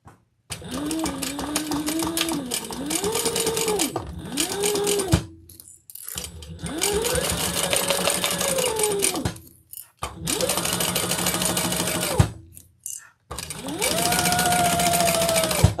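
A sewing machine stitching a beach tote, running in several long whirring bursts separated by short pauses, close and loud, its motor pitch rising and settling with each run.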